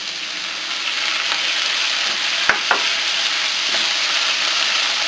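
Tomatoes frying in a pan with garlic and onion, giving a steady loud sizzle throughout, with a couple of sharp spoon clicks against the pan as they are stirred.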